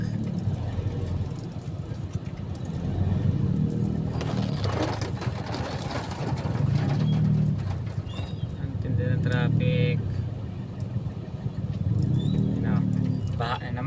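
Street traffic on a Philippine city avenue, cars and motorcycles passing in steady waves of engine noise and rumble, with people talking throughout.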